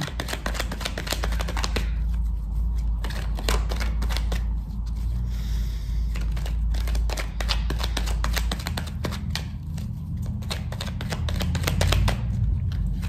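Tarot cards being shuffled and cut by hand: a continuous, dense riffling patter of card edges slapping together, close and steady throughout, with no talking.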